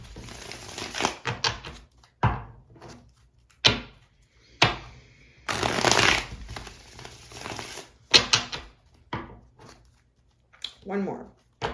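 Tarot cards being shuffled and pulled from a deck, with soft riffles, slaps and flicks coming in irregular bursts close by while a person talks between them.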